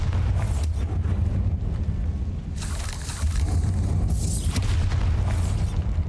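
In Hogwarts Legacy, the Bombarda explosion spell booms and rumbles heavily for several seconds, with a couple of brighter blast surges midway, loud and sustained with no talking.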